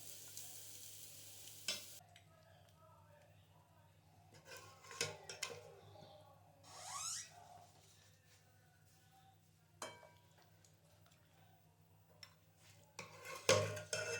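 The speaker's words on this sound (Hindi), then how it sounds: "अब मैं इसको डिश आउट करती हूँ और फिर आपको दिखाती हूँ।" Degi Korma served out of a pot with a spoon: faint scrapes and metallic clinks of spoon against pot, sporadic and quiet over a low steady hum, with a louder clatter near the end.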